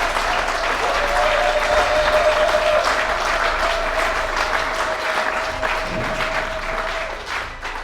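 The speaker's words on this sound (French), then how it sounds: "Si vous êtes d'accord avec moi, applaudissez" Sustained applause from a large audience at the Genocost 2025 memorial ceremony, a dense, loud wash of many hands clapping that holds steady and slowly fades toward the end, with a faint steady tone underneath.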